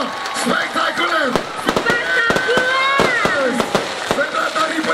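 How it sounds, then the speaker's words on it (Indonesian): Dense bursts of fireworks bang and crackle continuously at the closing of the Pesona Belitung Beach Festival 2025, with a crowd cheering and talking underneath throughout. "langsung disambut dengan pesta kembang api"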